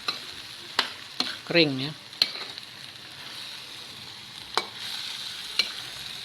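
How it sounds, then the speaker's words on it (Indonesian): Sate padang mixture is stirred in a frying pan, with sharp scraping clicks of the utensil at irregular intervals over a steady low sizzle, plus a brief spoken word. "Jadi perlu diaduk-aduk terus karena jangan sampai gosong."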